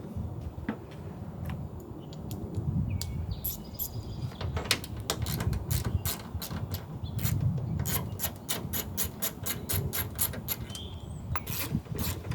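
Removing 10 mm taillight bolts on a Toyota Tacoma: a quick, close run of rapid ratchet clicks over a low rumble of background noise, coming in several dense bursts.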